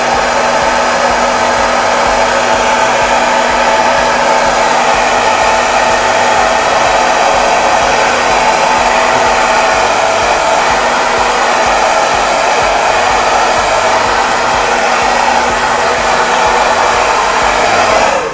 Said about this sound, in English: And then with your hairdryer and diffuser,